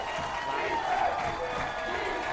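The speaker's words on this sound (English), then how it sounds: "the Miamisburg side is really pumping up their cheering" Miamisburg fans cheering in the stands at a high school football game against Springboro, a steady, broad crowd roar with scattered shouts and applause sustained throughout, fairly loud and continuous.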